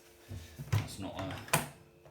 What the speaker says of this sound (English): now that I've closed the door